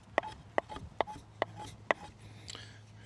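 Knife blade scraped against wood to make fine shavings for a fire, giving five sharp, evenly spaced scraping strokes close up, fairly quiet, followed by a softer rasp.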